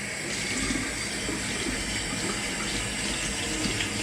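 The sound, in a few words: tap water running while rinsing a hand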